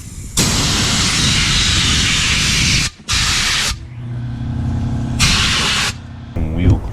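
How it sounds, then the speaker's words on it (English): Foaming wheel cleaner sprayed onto a Dodge Magnum's wheel: three long, loud, close hissing bursts separated by short pauses, with a faint hum and brief rattling between them. "Oh, foaming wheel cleaner, I guess."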